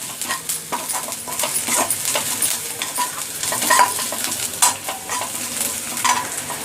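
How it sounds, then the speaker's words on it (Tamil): Ginger fries hard in an oil-filled pan, a steady loud sizzle broken by repeated scraping and clinking strokes of a spoon stirring through it, in a home kitchen preparing Tamil-style chilli prawn. "அடுத்தது இஞ்சி போட போகிறோம். இதுவும் நல்லா கொஞ்சம் ஃப்ரை ஆகணும்."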